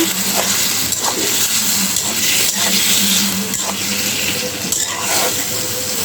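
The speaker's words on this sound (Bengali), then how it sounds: "আর একটু জল দিব পেঁপেটা কষানোর জন্য" Chopped papaya sautéing in a pan with a little water, a steady loud sizzle and bubbling hiss with faint stirring scrapes, close up with no talk.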